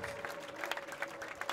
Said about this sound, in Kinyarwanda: Tugukomeye amashyi Mwana